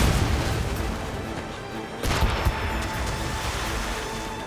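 Naval cannon fire from sailing ships in Assassin's Creed Rogue, a dense, loud barrage of booms rolling continuously with a sharper blast near the middle, no voices heard.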